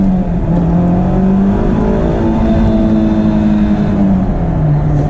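A Honda S2000 engine drones loudly and continuously from inside the convertible cabin, its pitch rising and falling slightly as the car drives on old tires, with a steady, close, unbroken engine roar.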